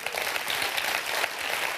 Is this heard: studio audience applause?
yes